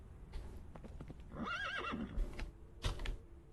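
A horse in the video game Minecraft gives a short whinny, faint and brief, with soft hoof clops around it and no talk over it.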